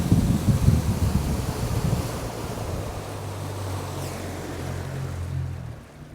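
Wind gusts hard over open water, loud and buffeting at first and then easing to a steady rush, with water lapping and a low motor-like hum underneath.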